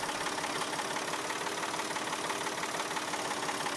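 A tractor engine in the video game Farming Simulator 22 runs with a steady, even throb, held at a constant level with no voices over it.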